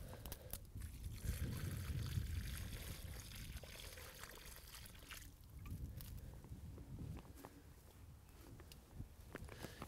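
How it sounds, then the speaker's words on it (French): Water is poured generously around a newly planted bare-root climbing rose in a garden, a steady close splashing and trickling into soil that eases off midway and continues more softly, with no talking. "Arroser copieusement"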